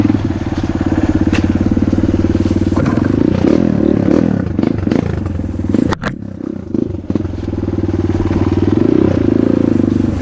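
Kayo T2 Chinese dirt bike engine buzzing steadily while ridden, loud and close, with a brief dip and clatter around the middle before the harmonic drone returns at full strength.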